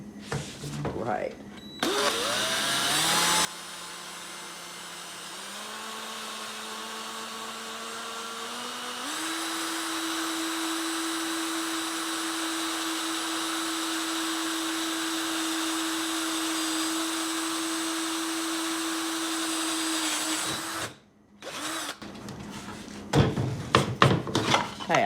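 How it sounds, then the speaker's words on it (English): A power drill with a 3/8 inch bit bores a hole, whining at a steady pitch that climbs in steps before settling into a sustained drone, then cutting off amid some handling clatter. "But I'm going to drill my hole."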